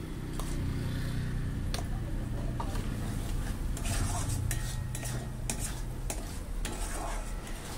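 Octopus curry is turned over with spices in hot oil, making loud continuous scraping and stirring against the pan over a sizzling fry, with frequent clanks of metal on metal.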